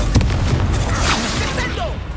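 A fiery Confringo spell blast goes off in the Hogwarts Legacy video game, a sharp booming burst near the start followed by crackling, fading game effects.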